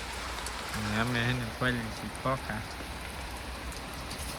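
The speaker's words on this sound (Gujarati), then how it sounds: "વરસાદ ચાલુ છે આવો એક ધારો" Steady rain falls in Botad village, an even hiss running throughout while a person speaks briefly over it.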